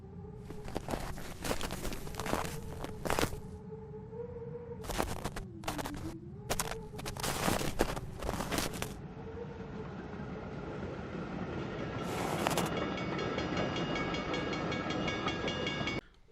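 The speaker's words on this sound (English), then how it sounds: "First it's silence, then the snow crunching, and then the train coming along." Footsteps crunch through snow in a series of crisp steps, then a train approaches with a growing rumble and clatter, all under a sustained soft tone.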